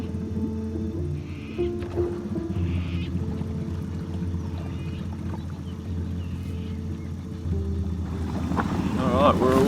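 A motorboat engine drones steadily under wind and water noise on a rough sea off North Stradbroke Island, with the roar swelling louder near the end as the boat speeds up at full throttle.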